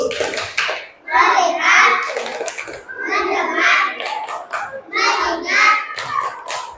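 Schoolchildren in a classroom perform a rhythmic focus clap, crisp patterned hand claps in short bursts mixed with their voices chanting along in time, close and lively.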